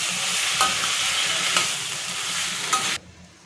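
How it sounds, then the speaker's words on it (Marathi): Cooked potatoes and peas for samosa filling are stirred and fried in a pan, giving a steady sizzling hiss with occasional spatula clicks, then cutting off abruptly near the end. "बटाटे आणि मटर शिजून घेतलेले ते टाकून परतून घ्यायचे।"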